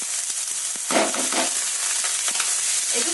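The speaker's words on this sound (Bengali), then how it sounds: "একটু ভাজা ভাজা করে নেব" Maggi noodles frying with onion, chili and capsicum in a hot pan give a steady close sizzle, broken by a few scraping stirs of the spatula.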